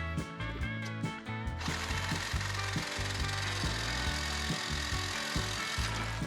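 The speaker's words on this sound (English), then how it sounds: "I've got a hacksaw. We're going to test out the effectiveness of this blade" A hacksaw cuts through a metal bolt during sawmill repair work, making steady back-and-forth rasping strokes, close and fairly quiet, with a ratcheting, grinding edge to each pass.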